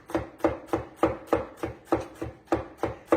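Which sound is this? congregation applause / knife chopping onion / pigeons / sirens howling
knife chopping onion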